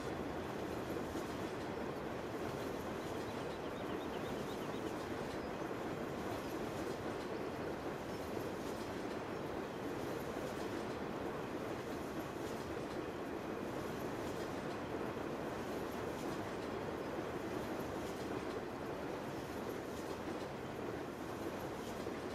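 A train in Farming Simulator 17 on the Emerald Coast map rolls by with a steady low rumble and faint rhythmic clatter of wheels, continuous and moderately distant throughout.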